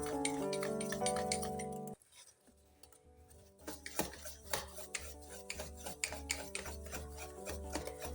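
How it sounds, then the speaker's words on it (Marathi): Besan and rava batter whisked by hand in a bowl, rapid rhythmic scraping and tapping strokes up close, following a brief opening of steady tonal hum and a short pause. "आपण दोन मिनिटं सारखं असं फेटून घेऊ"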